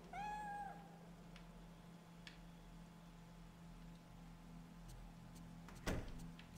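A cat gives one clear, close meow at the start, followed by quiet room noise, faint clicks and a sharp knock near the end.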